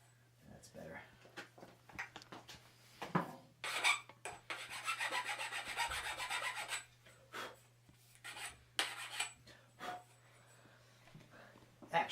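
Metal file rasping across the top of a mountain bike fork's steerer tube, during a Dart 3 to RockShox Recon Solo Air fork swap: repeated close strokes in bursts, with a longer sustained stretch of filing midway and a steady low hum underneath.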